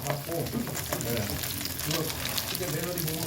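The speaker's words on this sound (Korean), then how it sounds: "장어 몇 마리 지지고 있습니다." Steady, loud sizzling and crackling of eel frying in a pan, heard up close and continuing without a break.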